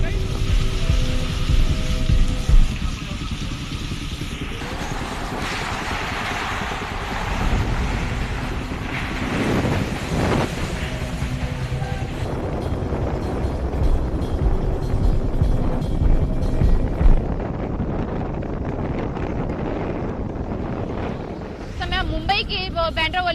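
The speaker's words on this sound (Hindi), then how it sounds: "सीधे सीधे अरब सागर की ओर से तेज हवाएं इस वक्त यहाँ पर आ रही हैं" Strong cyclone winds off the Arabian Sea buffet the microphone at Mumbai's Bandra seafront, a loud continuous roar with gusty surges and surf underneath, while a reporter talks over it.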